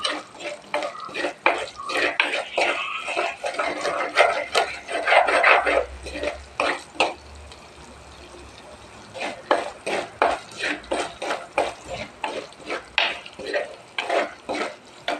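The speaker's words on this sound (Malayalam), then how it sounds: "മുളക് നല്ലോണം മൂപ്പിട്ടുണ്ട്." Chili frying in a pan while a utensil stirs and scrapes, with steady sizzling under repeated close, sharp scraping strokes, a quieter sizzle-only stretch midway, then more rhythmic stirring.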